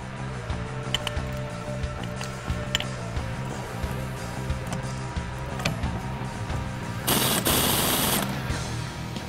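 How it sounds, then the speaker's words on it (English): Rapid ratcheting clicks from an impact tool running a spring compressor on a 2015-2023 Ford Mustang strut spring, fast and continuous with a brief loud burst of air hiss near the end. "you want to compress the spring first"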